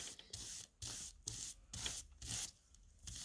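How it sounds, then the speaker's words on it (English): A paintbrush spreading Odicoat laminating liquid over fabric, soft rhythmic swishing strokes close up, quiet and repeated in a steady back-and-forth pattern. "Then simply paint over the fabric."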